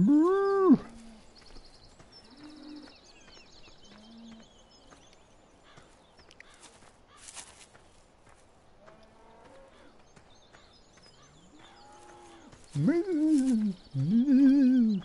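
Cows moo in a video game: one low moo opens, faint livestock sounds and soft clatter drift through the middle, and two loud, drawn-out moos close it.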